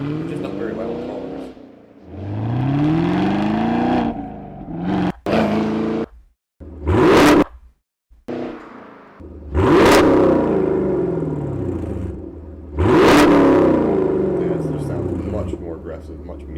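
Chevrolet Camaro SS 1LE V8 with an aftermarket axle-back exhaust, revving in three sharp, loud blips separated by short pauses, with a rumbling idle between them and a voice talking over the start.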